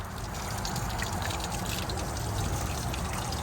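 Water pours steadily into a newly built aquaponics grow bed with foam-sealed cracks, a continuous loud splashing rush that fills the whole stretch without pause.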